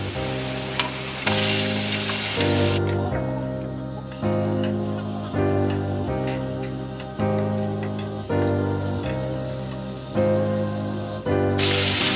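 Scallop pieces sizzle and fry in a pan alongside onion, a steady loud crackle with repeated surges as the pieces go in and are stirred, no voices over it.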